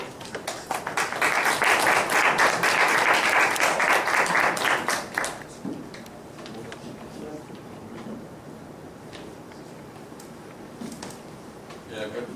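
Loud audience applause at a Korean lecture event on homosexuality and anti-discrimination legislation, welcoming a professor to the podium; dense clapping for about five seconds, then fading into room noise and scattered taps.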